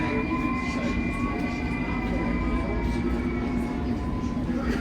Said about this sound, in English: This is an all station Metropolitan Line train to Uxbridge.